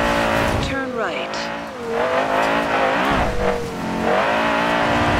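A Porsche engine in Forza Horizon 2 revs loud and close at full throttle, pitch climbing and dropping through gear changes with a faint tire squeal, while someone talks over it.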